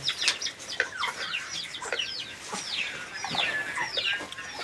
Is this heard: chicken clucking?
yes